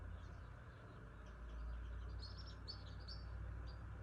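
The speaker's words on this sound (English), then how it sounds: "And you hear these birds" Faint, high chirps of small birds in a tree near Big Bear Lake come in short bursts over a low, steady background rumble, sounding somewhat distant.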